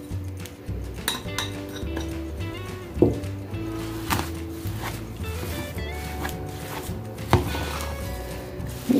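Mashed potatoes mixed with spices and salt, making close clinking and scraping sounds of a utensil against a bowl in irregular strokes, with sharper knocks now and then and no speech.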